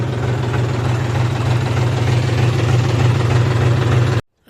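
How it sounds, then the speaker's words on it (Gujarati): A farm tractor engine idles nearby, making a loud, steady low rumble with an even mechanical throb that stops abruptly at the end. "આપણે જો ટ્રેક્ટરને અહીં રાખી દીધું"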